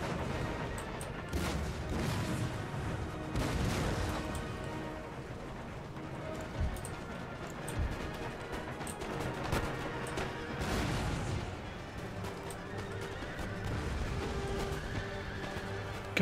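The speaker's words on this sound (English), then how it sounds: "God, you hear all those horses." Massed cavalry in a Napoleonic-era Empire: Total War battle, with galloping hooves and occasional whinnies under distant volleys of musket fire, a continuous busy battlefield din.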